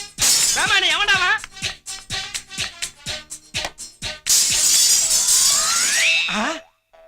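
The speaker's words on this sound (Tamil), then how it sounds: "தங்க மாதிரி இந்த ஜன்னல் உடைஞ்சிடுச்சே." Loud glass shattering as a house window breaks, crashing against a noisy comic scene full of shouting voices and clattering, the burst of breaking glass filling several seconds before cutting to silence.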